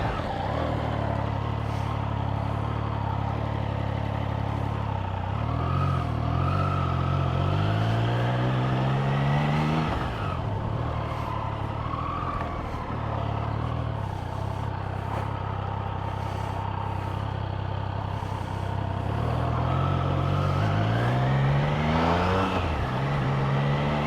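A Triumph Trident 660 triple-cylinder motorcycle is ridden through town, its engine rising and falling through gear changes in a continuous, close onboard drone with wind rush.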